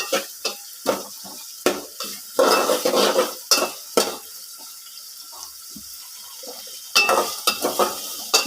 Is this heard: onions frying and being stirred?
yes